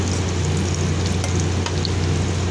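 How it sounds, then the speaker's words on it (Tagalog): Fern fronds sautéing in a hot pan make a steady, close crackling sizzle with a few light scrapes of stirring over a low constant hum. "Gisahin lang natin yung pako mga idol."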